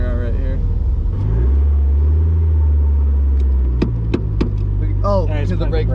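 A formerly abandoned Mazda Miata, brought back to running with a slight exhaust leak, drives with a steady, loud low engine drone heard from inside the car that rises and eases, with brief clicks and a voice near the end.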